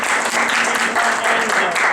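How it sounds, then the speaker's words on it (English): Brief audience applause at a comedy show, a dense, even burst of clapping from the crowd that swells slightly and holds steady for a couple of seconds. "Can I get a quick round of applause for Whitney Houston"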